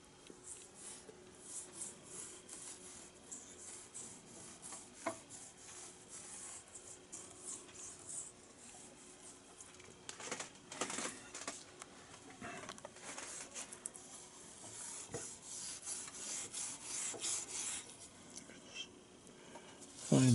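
Fine steel wool scrubs fifty-year-old chrome on a Triumph chopper sidecar, after the part has been wiped with hand cleaner. The rubbing strokes are soft and close, with faint repeated scratching throughout.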